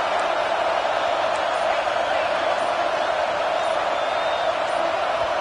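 A packed stadium crowd at a college football game, UCLA hosting Illinois, roars as a continuous loud, dense wash of noise with no distinct voices standing out.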